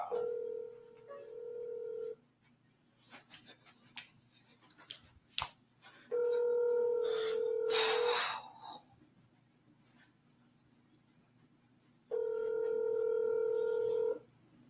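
A telephone call rings back in long, loud, evenly spaced tones with pauses between them, while softer handling noises and breaths fill the gaps.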